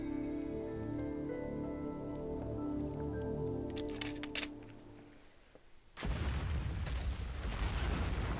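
A video game explosion in Devil May Cry 2: a tonal hum gives way to a sudden loud crackling blast that roars and rumbles steadily to the end.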